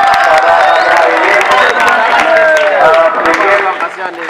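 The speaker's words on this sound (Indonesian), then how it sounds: "kita berikan tepuk tangan yang meriah untuk ketiga pasangan calon kita pada hari ini" Audience at a student council candidate debate cheering and applauding loudly, a dense crowd roar with scattered claps and excited voices, sustained before tapering slightly at the end.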